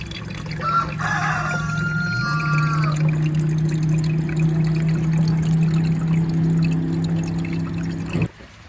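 Water pours steadily from a valve or hose to water seeds outdoors, a continuous near, even rush lasting several seconds before it cuts off abruptly.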